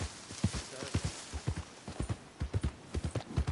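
A horse in Red Dead Redemption II moves at a steady pace, its hooves clip-clopping in a regular rhythm close by, with faint background game sound and no voices.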